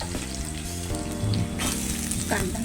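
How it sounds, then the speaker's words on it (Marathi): Soybean mince frying with onion in a pan, a steady low sizzle at modest level under background music, with a few louder stirring crackles. "अशी परतून घ्यायची छानपैकी"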